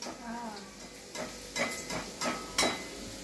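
Modak dumplings frying in hot oil give a faint, steady sizzle with soft stirring scrapes and a few brighter clinks recurring about once a second, with no voices.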